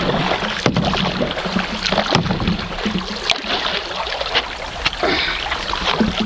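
A canoe being paddled on the River Wensum, with steady watery splashing, rustle and wind noise and a few sharper knocks against the hull, close to the microphone and with no talking.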